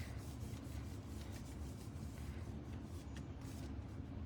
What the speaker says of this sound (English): I'm just going to give it a rub on the back